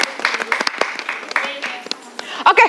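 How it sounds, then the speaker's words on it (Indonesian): An audience at a New York Indonesia Fashion Week event applauds, with scattered handclaps under a live emcee's voice. Near the end, talk and other sounds take over as the clapping fades. "Kita boleh berikan tepuk tangan sekali lagi."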